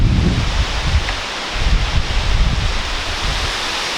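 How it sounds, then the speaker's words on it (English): A mountain waterfall at Tiger Leaping Gorge roars as a broad, steady wash of rushing water, close and loud, with low gusty rumbles mixed in throughout. "It's a waterfall."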